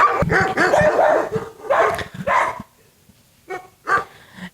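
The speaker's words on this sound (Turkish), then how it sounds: "Burada toplamda 186 tane köpek var ve hepsi de kaderine terk edilmiş durumda." Dogs at a crowded animal shelter holding 186 dogs bark in loud, overlapping bursts at close range, with yips and whimpers mixed in. Short quiet gaps fall between the later barks.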